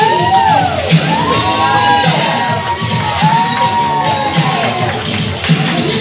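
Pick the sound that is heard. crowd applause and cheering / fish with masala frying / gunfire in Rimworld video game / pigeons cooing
crowd applause and cheering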